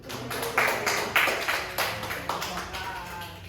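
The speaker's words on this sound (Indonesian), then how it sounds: "Silakan beri tepuk tangan untuk Siti." Scattered hand claps in a classroom, a few distinct slaps in an irregular rhythm, fairly close and modest in volume over a background murmur.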